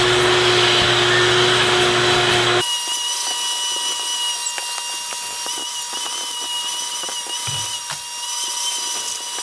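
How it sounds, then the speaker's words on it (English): A vacuum cleaner drones steadily while cleaning the interior of a Mercedes GLE 63S during a winter prep wash, loud and close at first, then shifting to a thinner, more distant whine for the rest. "Now that I got this vacuum"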